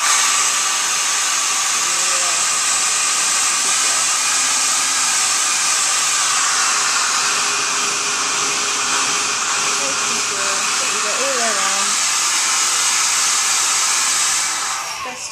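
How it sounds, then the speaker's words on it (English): A hair dryer blows in a loud, continuous rushing whir that holds steady, then starts to fade right at the end. "you get a hairdryer."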